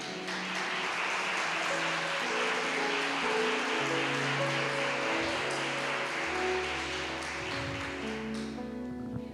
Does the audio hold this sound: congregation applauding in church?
yes